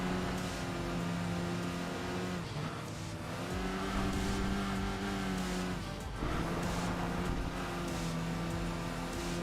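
A racing game sports coupe with a small 2-liter inline-four, about 200 horsepower, drones steadily at high revs with a few dips and climbs as it shifts, heard loud and continuous without talk.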